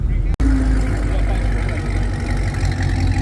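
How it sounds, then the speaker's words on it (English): A Chevrolet Camaro SS engine runs at a car meet, a steady deep rumble close by with a brief cut near the start, and people talk nearby. "another blue Camaro SS. That sounds really nice."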